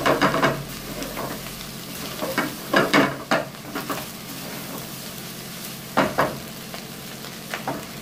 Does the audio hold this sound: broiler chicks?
no